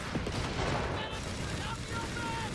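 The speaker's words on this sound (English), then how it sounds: "Big barrage coming in the middle here." Artillery barrage in the Company of Heroes 3 strategy game, a dense continuous rumble of booming impacts and explosions, loud and sustained, with a commentator talking over it.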